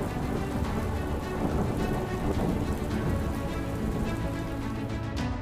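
Heavy monsoon downpour in south Gujarat, a dense, continuous roar of rain drumming on surfaces, steady throughout with no voices.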